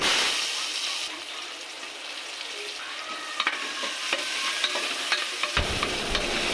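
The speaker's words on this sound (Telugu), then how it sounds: "బిర్యానీ సామానం కూడా వేసుకొని అది కొంచెం వేగిన తర్వాత అందులోనే స్లైసెస్గా కట్ చేసుకుని ఉల్లిపాయ ముక్కలు వేసి" Sliced onions fry in ghee with whole biryani spices, giving a loud, dense sizzle and hiss close by. Occasional stirring clinks sound through it, and a louder burst comes near the end.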